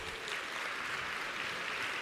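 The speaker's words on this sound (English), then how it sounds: "give them a round of applause" Applause from a conference audience at a women's executive summit keynote, a dense, even wash of clapping that holds steady throughout, with no voices over it.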